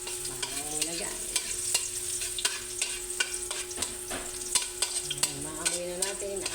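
Minced garlic sizzles in hot oil in a pan while being stirred before cooking mussels, a steady fry with repeated scraping clicks of the utensil against the pan.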